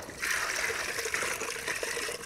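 Something is dipped into a water basin while preparing feeder fishing bait, giving a steady soft splashing and trickling close by for a couple of seconds, with no voices.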